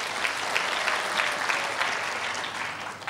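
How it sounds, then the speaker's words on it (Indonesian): A church congregation at a morning prayer service breaks into steady applause, an even, continuous wash of clapping heard from a distance. "Tepuk tangannya mana?"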